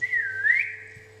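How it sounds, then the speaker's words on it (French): A player whistles during a Roblox Backrooms game: a single clear, close whistle that slides down and back up, then trails off over a low steady hum. "Vas-y, siffle."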